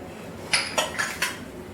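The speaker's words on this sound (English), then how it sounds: "and again I will mix them well." Cabbage and carrot being mixed with pepper and salt in a bowl: four separate clinks and scrapes of a utensil against the bowl, fairly close, with no talk.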